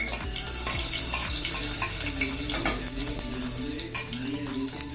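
Whole spices (cinnamon stick, cloves, cardamom, fennel seeds and bay leaf) frying in hot oil and ghee for vegetable biryani, giving a steady, close, loud sizzle with no talk.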